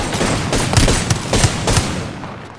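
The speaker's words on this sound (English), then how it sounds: "Watch an airstrike." Video game airstrike in a squad battle royale: a burst of several sharp explosive impacts in quick succession over a rumbling background, loud and close, fading out at the end.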